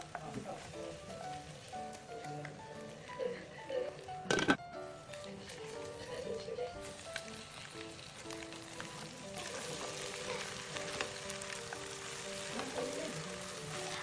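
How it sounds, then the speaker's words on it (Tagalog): Pork fries in oil with chili and onion for sisig, a faint, steady sizzle throughout with a brief clatter near the middle; quiet, with light background noise and no clear speech. "At eto nga nagmantika na yung pork at naluto na yung sili pati na nga rin yung sibuyas"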